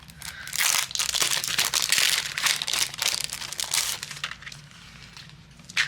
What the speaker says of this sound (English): we're going to die cut out our greeting